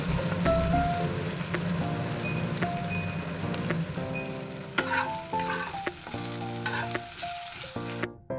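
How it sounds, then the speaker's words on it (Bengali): Potatoes frying in oil in a wok while being stirred, a steady close sizzle with scraping and clinking of the spatula against the pan throughout. "কড়াইতে আলুগুলো ভালোভাবে লাল করে ভাজা হয়ে গেছে দুই থেকে তিন সেকেন্ড নেড়ে চেড়ে"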